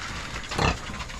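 Pigs grunt at feeding time on a farm, with a short, rough burst of grunting in the middle of a low, steady hum of background noise.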